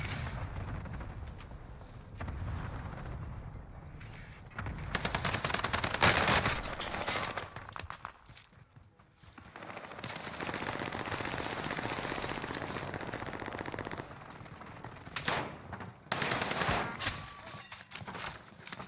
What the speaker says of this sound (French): Mec, Top Nova qui te snipe, je vais l'avoir normalement